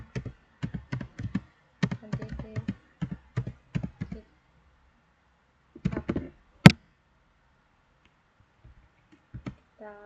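Computer keyboard typed at a command prompt for Git commands, with clusters of crisp, close key clicks followed by one sharper loud keystroke and sparse taps in near silence.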